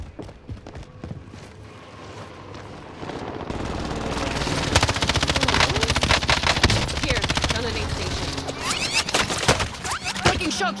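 Rapid bursts of automatic gunfire in a battle-royale style video game, sparse at first then building into dense, loud, overlapping volleys with sharp cracks, with voices talking in the background.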